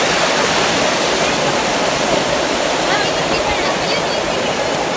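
Bolinao Falls number 3 in Bolinao pours in a steady, loud broadband roar of falling water that fills the whole clip without pause, with no distinct voices rising above the rush.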